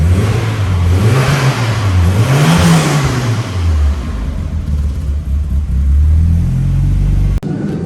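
Engine of a Volvo 740 sleeper build after an idle fix, close and loud, rising and falling through several revs before settling back to a rough, steady idle.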